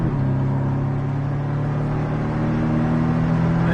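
A Porsche Cayman on the Bresse race circuit, its engine droning steadily under acceleration with a sustained, fairly loud tone that rises slightly toward the end, with no voices over it.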